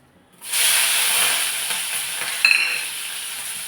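Small onions, a big onion, green chillies and curry leaves hit hot oil for a prawn stir-fry, bursting into a loud, close, steady hiss and sizzle with a brief clatter of stirring.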